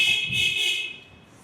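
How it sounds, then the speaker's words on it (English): Loud car horns blare along a busy Hanoi street at night near the train street market, a sustained honking tone over rumbling traffic that eases off toward the end. "Just as I say that, I get really loud honking."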